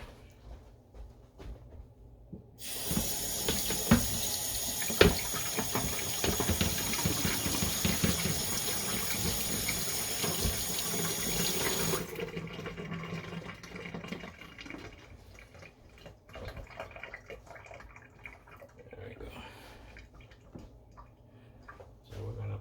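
A kitchen tap runs steadily for about ten seconds while items are washed, a close, continuous rush of water that then cuts off, followed by soft clatter and drips.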